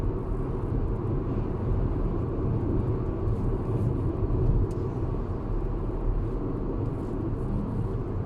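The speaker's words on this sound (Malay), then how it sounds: "bunyi dia datang daripada tayar" Inside a moving Proton X50 SUV, a continuous low rumble of tyre roar on the road surface fills the cabin at a steady level, with no voices over it.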